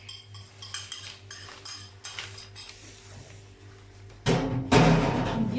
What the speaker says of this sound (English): And give this a mix through.